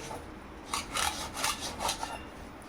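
Boiled potatoes grated by hand for sabudana chakli, several rhythmic rasping strokes against a grater, close and fairly soft.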